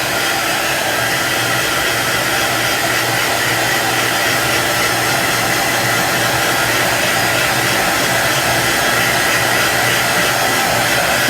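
A hair dryer runs steadily and close, a constant whooshing blower hum drying chalk paste on a Halloween sign, with no talk over it.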